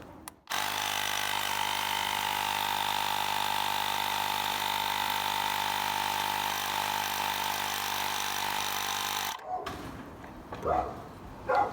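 A Ryobi digital inflator pumps up a tire with a loud, constant buzzing motor hum that runs steadily for about nine seconds and then stops abruptly, followed by brief handling noises.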